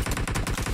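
Rapid automatic gunfire during a video game training scrim, about eight evenly spaced sharp shots in under a second, loud and close.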